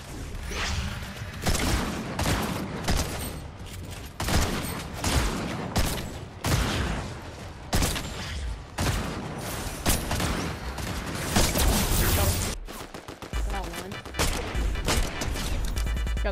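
Rapid DMR rifle fire in Fortnite, loud repeated sharp cracks in dense bursts with explosive booms mixed in, carrying on almost without pause.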